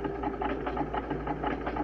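A sewing machine running steadily as it stitches along a seam, a close, continuous mechanical whirr with a fast, even chattering rhythm and low motor hum.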